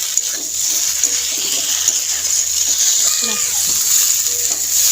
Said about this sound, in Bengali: এবার মশলাটা সবজির সঙ্গে দিয়ে আরও বেশ কিছুক্ষণ কষিয়ে নিচ্ছি।